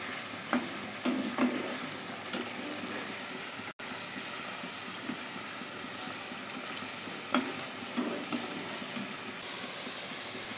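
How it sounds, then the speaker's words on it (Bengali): Green chicken curry made with yogurt and coriander being stirred in a pan, giving a soft steady sizzle with occasional scrapes and clinks, faint and heard alone. "তো আমি এবার একটু নাড়িয়ে দেব।"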